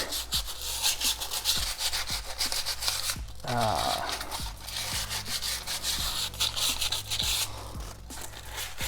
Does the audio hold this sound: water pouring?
no